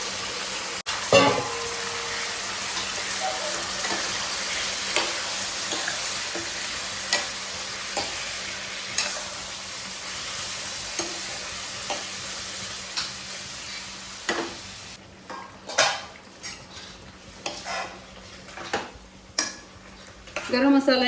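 Paneer fries in ghee with a low continuous sizzle, while a utensil scrapes and taps the pan in a regular rhythm. The tapping grows sharper and busier near the end.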